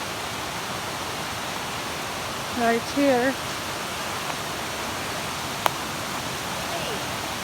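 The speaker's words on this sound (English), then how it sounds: "This is with Jonas Creek." Jonas Creek in the Great Smoky Mountains rushes steadily, a broad continuous wash of flowing water heard up close on a hiking trail, with a brief whistled or sung snatch and a single sharp click partway through.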